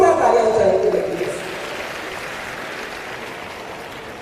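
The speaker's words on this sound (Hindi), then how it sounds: "जोरदार तालियां हो जाएंगे प्लीज" Audience at an outdoor environment conference applauding a speaker, a burst of dense clapping that fades away after about a second.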